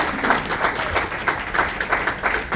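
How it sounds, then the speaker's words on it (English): Dense, steady applause and clapping from an audience at a USANA corporate event honoring a three-time world champion boxer, continuous and fairly loud with no pause. "let's give him another big round of applause."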